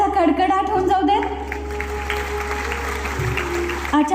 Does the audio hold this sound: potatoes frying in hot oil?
no